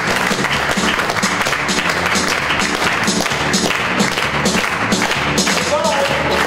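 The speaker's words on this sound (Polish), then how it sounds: "wielkie brawa." A lively evening audience applauds loudly and close by, with heavy rhythmic thumps, taps and crowd noise mixed into the clapping and voices in the background.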